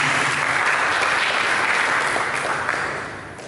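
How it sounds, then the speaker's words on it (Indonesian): A church congregation claps during a Sunday sermon, filling the room with a thick, continuous roar of hands that holds steady before fading away in the last half second. "Mari kita berikan tepuk tangan bagi Yesus."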